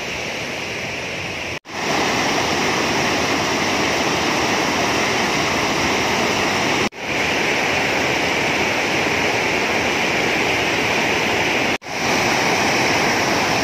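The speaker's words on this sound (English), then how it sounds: "Now this is the river." A river rushes past a riverside rapids camp at Sagana, a loud, steady roar of flowing water with only brief breaks.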